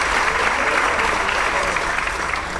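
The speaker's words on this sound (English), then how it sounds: "a round of applause to Mr. Toby and our string students" Audience applause for string students and their teacher at a 4th and 5th grade school band and string concert, a steady wash of clapping with a low hum beneath and no clear talking.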